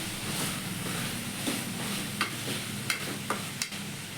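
Two spoons of chilli powder and masala sauté in hot oil for a pea and potato kurma, with a soft continuous sizzle and several sharp spoon scrapes and taps as the mixture is stirred.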